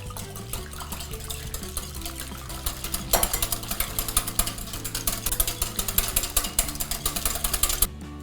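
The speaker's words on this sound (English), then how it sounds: "We'll take the eggs in this large bowl here and we'll whisk this till it becomes foamy." Eggs whisked in a large bowl: a steady, fast scraping rattle of the whisk against the bowl that keeps running without a break and grows louder and busier about halfway through.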